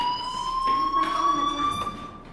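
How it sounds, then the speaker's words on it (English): A fire alarm ringing in the video game Life Is Strange, a steady high electronic tone with sweeping overtones sounding continuously throughout. "Hey, do you hear that fire alarm? That means you should be outside."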